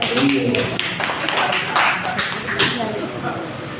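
An audience at an Islamic council work meeting in Medan Denai claps for their chairman, a short burst of close, brisk clapping with a voice speaking over it.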